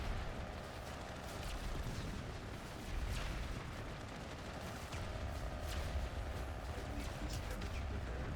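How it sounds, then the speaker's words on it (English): Distant video game battle in a large-scale online shooter, with dense overlapping explosions and rapid gunfire as one faction fires through a doorway; a steady rumbling din with scattered sharper cracks and bangs. "Whole lot of explosions. So you got TR firing through the door."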